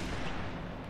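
Gunfire in Halo: Reach, a faint, steady rumble of distant shots lasting about a second, with no speech.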